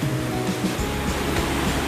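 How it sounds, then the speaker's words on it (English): Steady, broad rushing of a mountain river along the Appalachian Trail between Roan Mountain and Damascus, loud and constant throughout, with no voices. "This river is the same river I was filming yesterday with those waterfalls"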